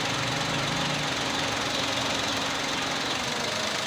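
A 2023 Toyota Wigo engine runs continuously with a rough, uneven knocking rhythm, loud and close, no voices.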